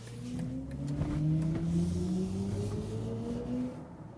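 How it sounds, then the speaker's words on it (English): A BMW iX3 electric car's synthetic acceleration tone, smooth tonal layers climbing steadily in pitch over a low hum as it accelerates out of a corner, fairly close and moderately loud. "there's also an acoustic feedback when pushing the throttle"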